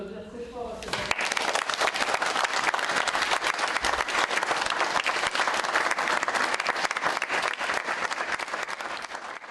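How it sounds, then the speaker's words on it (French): An audience in Saint-Flour applauds a Paralympic judo champion: a short sound opens the clip, then dense, loud, sustained clapping fills the rest. "Je pense qu'on peut applaudir très fort à cette..."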